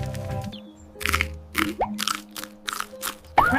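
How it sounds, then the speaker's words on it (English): Someone eating popcorn, with a series of close, crisp crunches in uneven bursts and a soft tone playing faintly underneath. "Crunch, crunch!"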